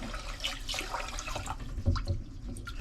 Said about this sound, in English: We're just gonna add the water.